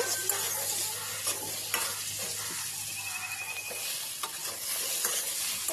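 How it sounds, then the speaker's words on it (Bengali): Boiled potatoes are stir-fried with spice masala for an egg curry, bringing brisk spatula scrapes and clatter against the pan over a steady sizzle, close-up with no voices. "সেদ্ধ করা আলুগুলো দিয়ে ভালো করে আমি মশলার সাথে ভালো করে আলুগুলো কষি নেব"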